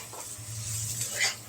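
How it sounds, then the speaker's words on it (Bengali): Cauliflower is stirred into spices fried in a pan, giving a brief, quiet sizzle with soft scraping from the stirring. "এই যে এখন ফুলকপিগুলো দিয়ে দেব, তারপর এটার সাথে মশলাটার সাথে একটু মিক্স করে নেবো।"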